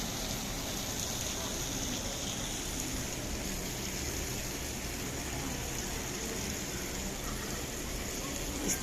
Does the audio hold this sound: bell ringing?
no